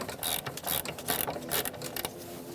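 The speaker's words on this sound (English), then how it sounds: "I'm going to use a 12mm socket with an extension, and I'm going to crack loose" A ratchet wrench with a 12mm socket on an extension cracks loose nuts while a master cylinder is replaced on a 2014-2018 Subaru Forester. Rapid, close mechanical clicking comes in quick uneven runs, with no talking.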